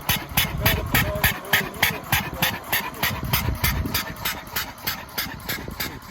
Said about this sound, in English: Has sort of a wobbly, has a funny little sound to it.